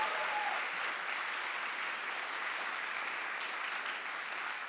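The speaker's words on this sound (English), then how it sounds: "Can we give them another round of applause?" Steady, even applause from an audience at a Martin Luther King Jr. birthday celebration, honouring a choral ensemble; the clapping is soft and a little distant, continuing without break for several seconds.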